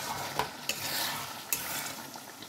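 Koi fish curry with whole green chilies bubbles and sizzles gently in a pan, with a few light utensil taps, close and steady, with no voices.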